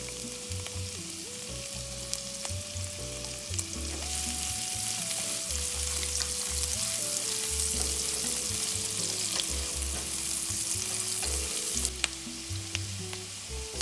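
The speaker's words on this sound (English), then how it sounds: "I'm going to add our finely chopped onions" Finely chopped onions fry in a pan with a dense, continuous sizzle and light stirring sounds, close and steady, under background music with no speech.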